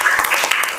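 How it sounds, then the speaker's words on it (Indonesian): A brief burst of clapping from a crowd of high school students at a morning assembly, filling the room for under a second. "Oke, tepuk tangan untuk semuanya."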